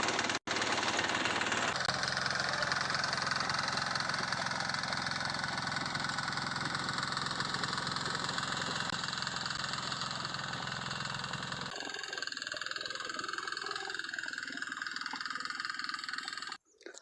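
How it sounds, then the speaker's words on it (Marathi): Homemade tractor engine idling steadily and loud for most of the stretch, with a change in tone partway through as the running continues, then cutting off near the end. "आपल्या घरी बनवलेले ट्रॅक्टर."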